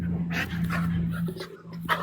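A dog pants in quick, breathy bursts and lets out thin, high whimpers, close and fairly quiet over a low steady hum.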